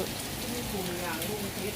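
Steady rain falls throughout at a Lao merit-making festival, a continuous hiss with faint voices mixed underneath.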